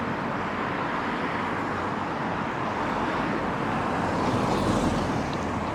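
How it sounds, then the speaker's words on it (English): Noisy cars passing on a town street between Connah's Quay and Shotton. Continuous traffic roar is heard from nearby and swells slightly toward the end, with no talking. "through all these noisy cars, is Alf Jones's"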